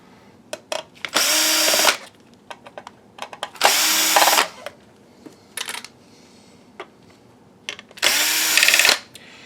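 A power screwdriver backs screws out of a DLP projector in three whirring bursts of about a second each, with clicks and small metallic handling sounds in the pauses between them.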